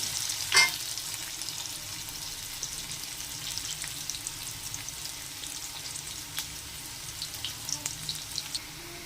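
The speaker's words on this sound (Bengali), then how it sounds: "আলুগুলো ভেজে নেব ওই তেলের মধ্যে।" Potatoes coated with turmeric fry in oil, giving a soft, steady sizzle up close with a sharp clatter at the start and light scattered stirring taps throughout, no voices.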